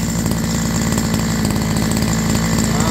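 Used Japanese grass trimmer with a small engine running steadily at a constant speed, a loud buzzing drone heard up close with no talk.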